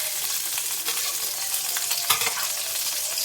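Chela fish frying lightly in a shallow layer of oil, a steady close sizzle with a few brief stirring clicks and one sharper pop midway, no voices.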